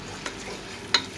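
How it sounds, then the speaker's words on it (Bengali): Potatoes frying in a pan crackle with a soft sizzle while a utensil stirs them, with a couple of sharp clicks of metal on the pan, close by and with no one talking. "আলুটাকে একটু ভেজে নেব, তাহলে একটু ভালো লাগবে"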